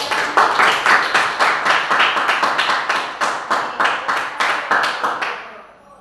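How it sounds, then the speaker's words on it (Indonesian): A classroom of students applauds after a group presentation, a dense burst of many hands clapping in quick rhythmic waves for several seconds before fading out at the end. "Oke, tepuk tangan semuanya."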